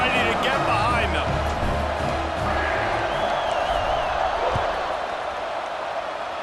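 Steady stadium crowd roar and cheering in a college football video game, Miami against Michigan State before a kickoff, a dense continuous wash with brief whistle-like tones over it.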